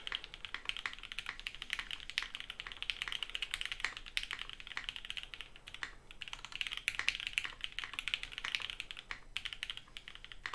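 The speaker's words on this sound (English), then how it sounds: "Alright, let's do a typing test, boys." Typing on a StashBox prototype mechanical keyboard with a PC plate gives a steady, dense stream of crisp, poppy keystrokes, close and fairly quiet, with no voices.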